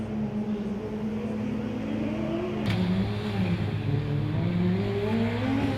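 A Formula Student race car circling a skidpad, its engine holding a loud, steady buzzing drone with a sharp shift in pitch partway through as the driver makes a big steering correction, then droning on evenly.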